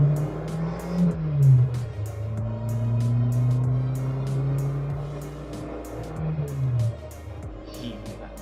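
Old Honda Civic Excellent with a 1300 cc 60 PS engine accelerating hard on an empty road, its engine note climbing through gear changes in a steady, fairly loud in-cabin roar with no talk.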